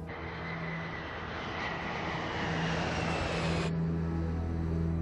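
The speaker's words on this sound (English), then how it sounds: "We were only taxiing at 3 miles an hour." An airplane taxiing slowly on a runway gives a steady, loud engine drone with low hum, continuous throughout and brightening slightly midway.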